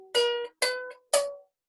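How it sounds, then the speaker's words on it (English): A ukulele plays three short, separated plucked notes, each ringing briefly and then cut off before the next one, detached and clear with no voices. "if I played 4 notes without a tenuto on, they will probably sound like this."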